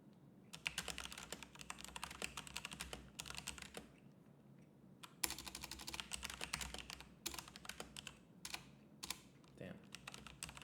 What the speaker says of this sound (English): let me just write it out first.